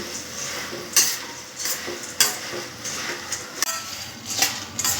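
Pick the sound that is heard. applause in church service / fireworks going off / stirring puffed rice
stirring puffed rice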